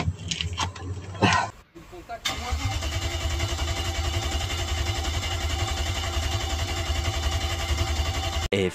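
A Fiat Multipla fitted with a V8 engine cranks with a few rough bursts, then catches and settles into a steady, buzzing drone like a lawnmower, close and loud for several seconds.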